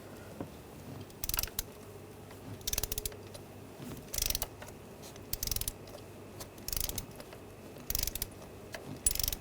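A ratchet torques a spark plug on a 2007-2013 BMW X5 3.0L inline-six, making about seven short bursts of rapid clicking, evenly spaced and close by, with quiet between strokes.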